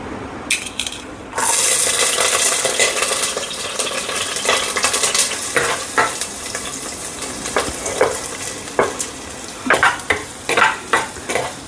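Chicken curry with roasted coconut fries noisily in a pot as it is stirred, a constant sizzle broken by repeated scraping clatters of the spoon, growing more rhythmic toward the end.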